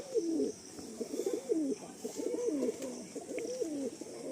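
A Laldom male pigeon in a pigeon loft gives continuous rolling coos, repeated phrases close by over faint background hum.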